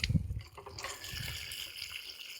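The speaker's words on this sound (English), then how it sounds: "So we're going to shoot a little water on them." Water splashes and gushes briefly onto plants in buckets during spring garden chores, then settles into a softer hiss and trickle, close by with no talk.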